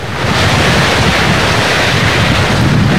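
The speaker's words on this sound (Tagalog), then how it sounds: "Sa isang malakas na bulso ng hangin" Loud, constant roaring typhoon wind gusts buffet the microphone in Tacloban City during Typhoon Yolanda, a dense rushing noise with no pauses or voices.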